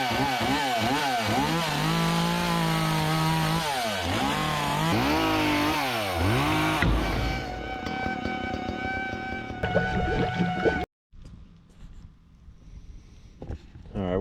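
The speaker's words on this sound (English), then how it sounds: "It's the 1980 20 horsepower Johnson." A 1980 Johnson 20 horsepower outboard motor runs loud and close, its pitch rising and falling as the throttle is worked, then cuts off abruptly near the end, with a voice briefly heard.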